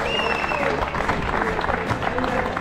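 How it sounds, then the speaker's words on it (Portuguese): A crowd applauds the winner on the podium at a Taça Portugal downhill mountain bike race. Moderately loud, steady clapping is mixed with crowd murmur and someone talking nearby. "Uma salva de palmas para ele."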